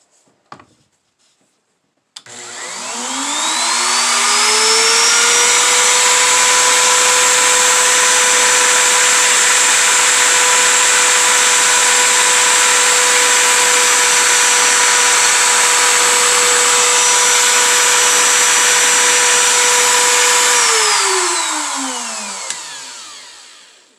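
A power tool cutter bites into cedar wood being shaped into crosses, spinning up and then holding one loud, steady whine with a bright overtone for about eighteen seconds before winding down.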